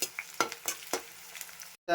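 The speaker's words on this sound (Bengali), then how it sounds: "এখন এই পেঁয়াজটা হালকা বাদামি করে ভাজতে হবে।" Onions frying in a pan until light brown, a steady sizzle with a few sharp stirring scrapes at irregular intervals, ending abruptly.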